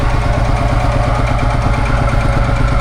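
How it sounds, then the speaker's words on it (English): A Field Marshal diesel tractor engine runs at a tractor festival, giving a loud, close, steady low chugging with an even pulsing beat and nothing else over it. "there's the Field Marshal diesel just here."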